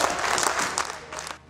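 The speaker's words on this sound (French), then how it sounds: "Son discours empreint de pédagogie a suscité des applaudissements nourris dans l'hémicycle" Sustained, dense applause fills a provincial assembly chamber in Lualaba, many hands clapping together at close range, with a faint murmur underneath before it begins to fade.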